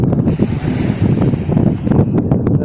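Ocean waves wash onto a white-sand beach as steady wind buffets the microphone, a loud, continuous roar with rolling surges and no voices.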